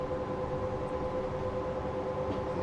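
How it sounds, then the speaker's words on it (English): A goods train rolls steadily in Transport Fever, heading towards Reykjavik, a continuous far-off rumble with a sustained tonal hum that holds evenly throughout, no voices over it. "a goods train in the background heading towards Reykjavik"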